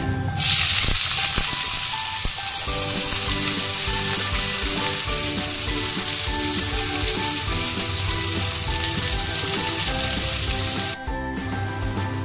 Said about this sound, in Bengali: পেঁয়াজ কুচিটা দিয়ে দিলাম